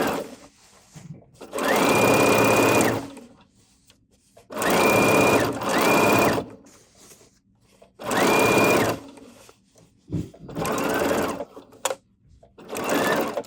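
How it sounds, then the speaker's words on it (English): A sewing machine runs a straight stitch along a denim jeans hem with 50 weight thread, in four loud bursts of whirring, each a second or two long, separated by pauses and faint handling sounds; no one talks. "now I'm just using a regular straight stitch."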